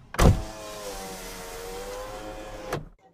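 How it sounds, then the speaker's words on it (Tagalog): A car's power window motor whirs steadily for about two and a half seconds as the glass lowers, starting and stopping with a clunk, close and with no one talking. "may babaeng nakakotse ang nagbaba ng bintana at siya ay tinanong"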